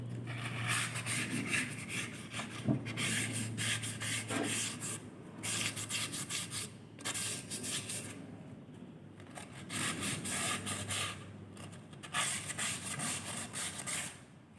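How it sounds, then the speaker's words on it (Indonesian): Steady abrasive rubbing of sandpaper against a metal brake drum, scraping back and forth in rhythmic strokes with brief pauses, close up. "Tromol ini dengan menggunakan kampas, kita amplas dulu."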